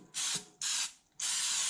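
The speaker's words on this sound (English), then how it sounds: "I'm going to go ahead and spray my pan with some more of this olive oil spray" Three short hissing bursts of olive oil cooking spray hit a pan, close and fairly quiet, the last one held longest, with no talk.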